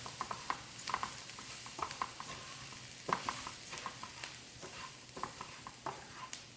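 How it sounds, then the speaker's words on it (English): Rice being stirred around a pan in the juices from cooked onion and pepper: soft, irregular scraping and shuffling strokes with a faint sizzle underneath, close and fairly quiet. "Now I'm going to throw all my rice in. We're just going to stir that around."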